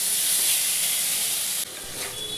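Fish curry masala sautés in a pan, a loud, steady hissing sizzle close by that briefly drops and settles into a quieter simmer, with no voices.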